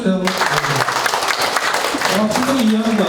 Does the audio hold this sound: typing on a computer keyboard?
no